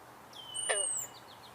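A red-winged blackbird gives a single short song phrase outdoors, a thin whistle and a brief buzzy note, moderately near against quiet background.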